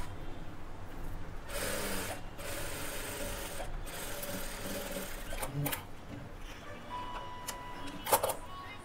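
Sewing machine stitching a lined blouse, quiet bursts of fast mechanical whirring that start and stop between pauses, with soft rubbing and handling noises of fabric nearby.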